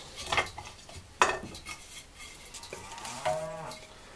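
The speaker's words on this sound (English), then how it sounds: "Hear that cow in the background?" A cow moos once in the background on a farm where timber framing is being laid out, a drawn-out low call standing out after scattered clattering knocks of wooden sticks being handled.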